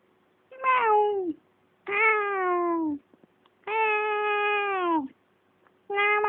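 A cat gives four loud, long, wavering meows, each one separated by a short silence, in a quiet indoor space.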